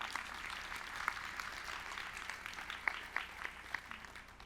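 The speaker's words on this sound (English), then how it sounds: "Thank you for applauding my father." Applause rises from an audience at a college alumni speech, a soft wash of distant clapping with a few sharper nearby claps standing out toward the end.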